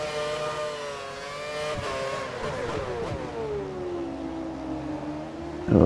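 An F1 race car engine in F1 2013 screams at high revs with a smooth harmonic whine that sweeps downward as the car slows, then jumps at the very end.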